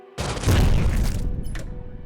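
An explosion in the zombie video game Dead Ahead Zombie Warfare, a sudden loud booming blast with a rumbling low end that sustains for over a second before thinning into a lingering crackle.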